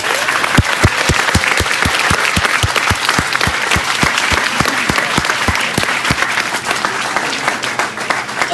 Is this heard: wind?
no